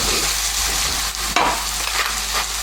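Endives and sausages brown in a pan with a steady, dense sizzle and a faint scrape or shift partway through.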